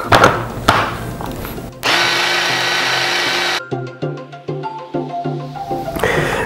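A blender whirs half a roughly chopped onion, with a loud steady motor roar for a couple of seconds followed by a series of short pulsed bursts, close and alone without talking.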